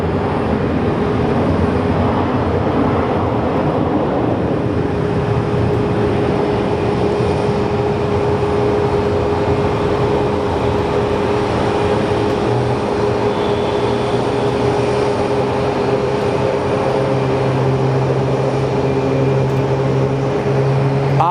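An airliner departs Phoenix Sky Harbor airport on a rainy day, its engines a loud, steady roar that holds for about twenty seconds with a low drone building toward the end, with no talking.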